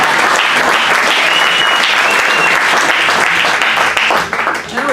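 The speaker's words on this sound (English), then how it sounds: "people clap their hands and cheer" Loud, dense applause from an audience at a gospel magic show, sustained steady clapping filling the room before tapering off near the end.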